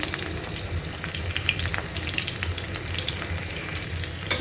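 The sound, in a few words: onion and cinnamon frying in oil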